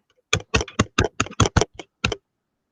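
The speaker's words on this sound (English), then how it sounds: "Who's typing?" A short burst of about ten crisp keyboard key clicks in quick, uneven succession, close by, then silence.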